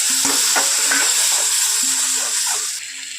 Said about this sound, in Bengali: এখন আমি এখানে যে সমস্ত রকম মশলা একসঙ্গে বেটে রেখেছিলাম সেটা এখানে দিয়ে দেব